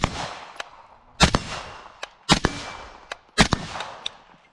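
While hunting feral hogs, a suppressed rifle fires three sharp, loud reports spaced about a second apart, each followed by a brief ringing tail and mechanical clicks, with quiet between shots.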